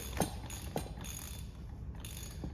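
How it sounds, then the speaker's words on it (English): A ratchet works on a coilover nut of an Audi A4 B5, giving a few clicking mechanical ticks over a steady background noise, close and fairly faint, with no talking. "Hold by the end of the ratchet so if it blows off, it doesn't take your hand with it."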